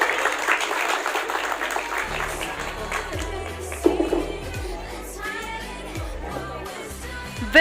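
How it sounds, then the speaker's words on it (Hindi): Crowd applause at a Women's Day celebration function, loud dense clapping at first that thins and softens, with scattered voices and a sharp bump near the middle. "लिए जोरदार तालियां।"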